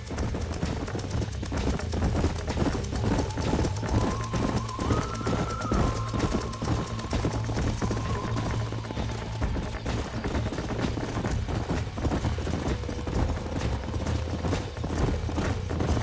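Horses clip-clopping at a steady canter on a ranch in Red Dead Redemption, hoofbeats rhythmic and continuous over a low game soundscape with faint musical tones.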